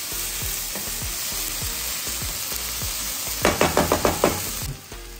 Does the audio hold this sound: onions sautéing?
yes